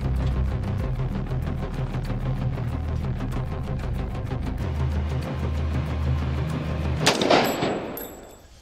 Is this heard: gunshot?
yes